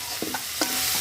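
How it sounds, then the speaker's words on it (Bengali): Pomfret fish frying in a pan, a short burst of sizzling with a couple of quick utensil scrapes and taps against the pan, close and clear. "আমাদের রূপচাঁদা মাছ কিন্তু ভাজা হয়ে গেছে।"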